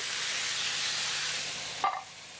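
Cream of mushroom soup is stirred in a Turbo Cooker under a steady, bright steamy hiss, with one brief scraping knock near the end before the hiss settles lower.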